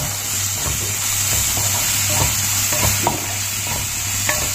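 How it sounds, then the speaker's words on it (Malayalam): Masala for tilapia sautés in a pan with a steady loud sizzle and hiss, while a spoon stirs in soft, irregular scrapes close by. "എന്നിട്ട് കുറച്ച് സമയം കൂടെ ഒന്ന് വഴറ്റി കൊടുക്കാം."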